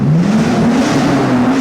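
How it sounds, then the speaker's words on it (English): A Nissan R34 Skyline engine revs loudly up close under the hood, holding a steady, slightly rising drone for a moment with no talking. "Here's a quick sound check up under here."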